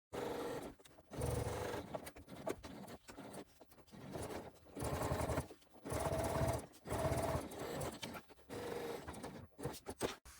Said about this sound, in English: sewing 2 stitches, raising the presser foot to pivot, 2 more stitches